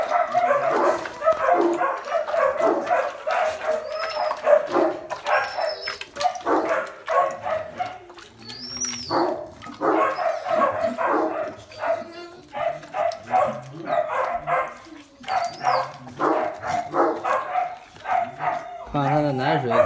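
Presa Canario dogs, a breed from Spain, make short yips and whimpers mixed with barking at close range on a rural farm where a mother has recently whelped, while people talk through most of it.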